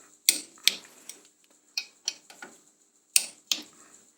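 A small torque wrench clicking as it tightens brake caliper bolts on a 2010 Mitsubishi Outlander, giving sharp close ratchet clicks in short clusters separated by quiet pauses.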